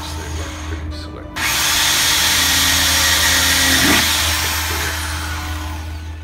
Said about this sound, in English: So I have to use a two size drill, a bit smaller than the on